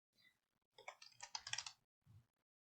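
Quiet, close computer keyboard typing while entering a product search, a few soft clicks followed by a denser burst of rapid keystrokes and a last short pair of taps.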